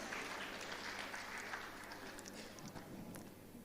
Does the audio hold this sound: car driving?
no